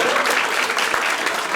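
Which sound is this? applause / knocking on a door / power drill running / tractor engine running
applause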